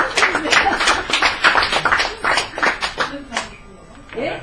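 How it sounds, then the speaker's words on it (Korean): An audience at a Korean talk on education reform claps in a quick burst of scattered hand claps that trails off and thins toward the end. "제 말에 동의하시면 박수를 많이 쳐주세요."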